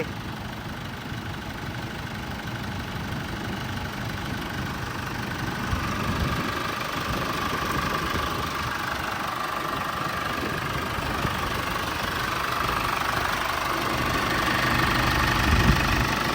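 A 2.8-litre Chevrolet Colorado pickup engine, a 2013 automatic four-door, idles steadily with a low, continuous rumble and slight knocking, close and constant throughout with no talk.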